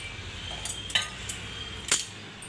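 Dishes and metal utensils clink now and then while being washed in a home kitchen, with a few sharp, bright knocks over a low, steady background hum.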